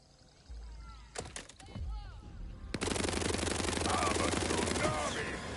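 Rapid automatic gunfire in Borderlands 4, starting with a few isolated shots and then breaking into a sustained, loud burst of continuous fire that runs on for a few seconds.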